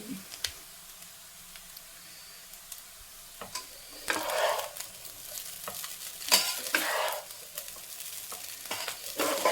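Baby corn fried rice stirred in a pan, with soft sizzling under scraping spoon strokes that grow busier and louder midway, close by.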